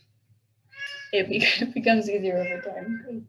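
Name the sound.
cat meowing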